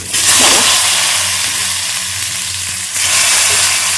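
Potato, pointed gourd and tomato drop into oil spiced with cumin, dried chilli and bay leaf, bursting into a loud, close, continuous sizzle that eases slightly midway and then surges again.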